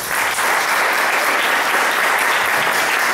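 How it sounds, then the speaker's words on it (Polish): Loud, sustained applause from the audience at a song festival concert, thick uninterrupted clapping that stays at full strength throughout. "dla nich należą się teraz gromkie brawa"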